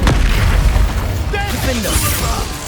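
Spell blasts and bursts from the Hogwarts Legacy video game, a dense run of booming impacts with crackling magical effects layered over game music and some voice, loud and continuous throughout.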